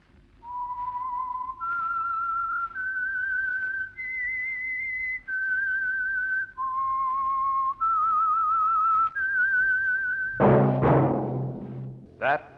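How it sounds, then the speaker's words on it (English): Radio show theme signal, a lone whistled tune of about eight sustained notes stepping up and down in a slow melody, clear and close, followed by a brief burst of orchestral sound. "That whistle is your signal for the Signal Oil Program, The Whistler."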